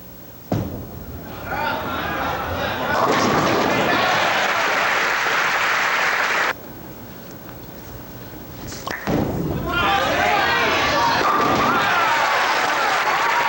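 A bowling ball rolls down the lane and crashes into the pins during a 1982 pro tour title match, a long rumbling roll followed by a loud clatter, then a second roll and strike, with crowd noise and commentary over it.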